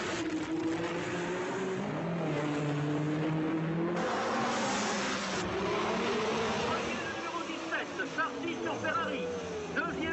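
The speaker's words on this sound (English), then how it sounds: "Now it's Sarti in the red Ferrari, number 17, leading, past the Hotel de Paris and into the Casino Square." 1960s Formula One cars, a red Ferrari leading, racing through Casino Square at Monaco, high engine whines rising and falling as cars pass, under steady talk from a commentator.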